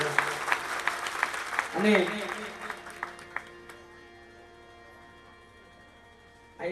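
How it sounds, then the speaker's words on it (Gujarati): Audience applause at a Gujarati Santvani bhajan gathering, a short burst of clapping mixed with talk and sustained instrumental tones that quickly fades into the background. "મારી એવી ઈચ્છા છે કે જબરજસ્ત તાળીઓથી એકવાર સન્માન કરી આ સુંદર આયોજનમાં કરવા"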